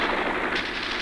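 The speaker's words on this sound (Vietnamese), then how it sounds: "Pháo của ta đã bắn vào thành Mang Cá." Wartime artillery and gunfire during the battle for Huế, shelling aimed at the Mang Cá citadel, rumble as a dense, continuous barrage at moderate distance with no speech.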